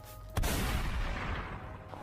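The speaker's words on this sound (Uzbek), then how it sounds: "O'q ovozi eshitildi." A single loud gunshot cracks out sharply, then echoes and decays over about a second and a half, with no voices.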